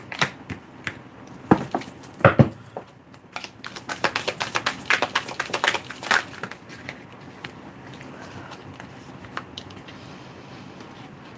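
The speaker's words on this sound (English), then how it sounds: "Let's get a little shuffle of these and see what comes out for Leo" Tarot cards being shuffled by hand, a close cluster of crisp riffling flicks and taps over a few seconds that then fade to quiet handling.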